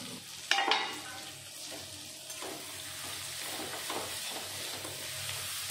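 Fried prawns being stirred in spice masala in a pan, a soft steady sizzle with a few sharp utensil knocks near the start and faint scraping strokes afterward, quiet and without speech.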